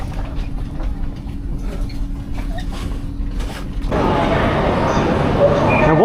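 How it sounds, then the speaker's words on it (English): A passenger train in China rumbles steadily along its rails, heard from on board, with a low hum that swells into a louder, broader roar partway through. "relax, enjoy your train ride"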